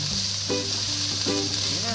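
Lemongrass and onion sizzle steadily in a frying pan while pinapaitan is cooked, a continuous close frying hiss with a faint voice or two in the background.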